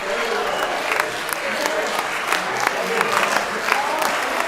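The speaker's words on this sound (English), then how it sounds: "Ooh, he clapping big, too. He clapping big." Live audience clapping through a courtroom hearing broadcast, scattered sharp claps over a crowd murmur with talking running underneath.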